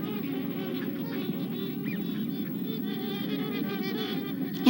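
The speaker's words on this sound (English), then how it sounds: "They spend their day gobbling and gobbling and wobbling and wobbling." A flock of turkeys, hens and toms at their feeding boxes on a farm, keeps up a continuous gobbling and honking chatter, dense and steady throughout, with no talk.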